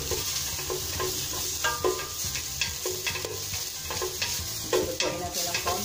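Onions frying in a pan for a ground pork spaghetti sauce, stirred with steady scraping strokes over a continuous close sizzle, with no talking.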